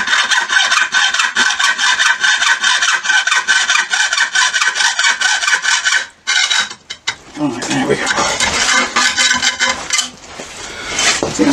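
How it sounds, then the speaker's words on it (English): Metal being cut with a hacksaw and shaped with a hand file for a Kawasaki Z1000 Mk2 project, a loud steady rhythmic rasp of fast strokes for several seconds, a brief pause, then rougher, more uneven scraping and filing strokes. "I'll just cut out the shape with a hacksaw, hand file"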